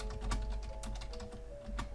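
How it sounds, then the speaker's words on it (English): Quick, light key clicks on a computer keyboard, a brief run of close taps over a low hum. "Oh my typing is really bad tonight."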